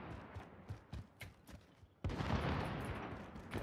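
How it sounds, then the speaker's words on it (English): Faint bursts of gunfire pop at irregular intervals in the distance in the video game Call of Duty: Warzone, then a dense rushing wash of noise takes over. "I don't even know where those fucking gunshots are coming from."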